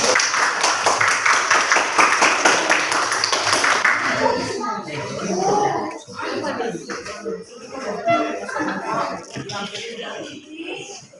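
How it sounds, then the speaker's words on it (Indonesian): A classroom full of students gives a burst of applause for the fourth group, dense clapping for about four seconds before it fades into chatter and talk. "kita beri aplaus untuk kelompok keempat"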